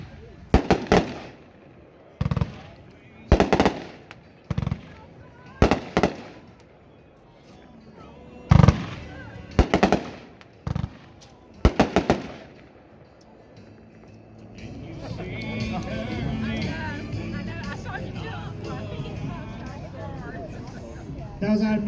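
A World Class USA Pride 25-shot firework cake fires at an outdoor demo, sharp booming shots in quick bursts followed by a crackling, rumbling finale, with crowd chatter in the background.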